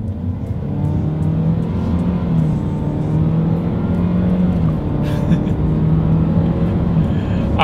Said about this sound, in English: let's see how quickly we can get the new 2020 Nissan Rogue Sport here up the speed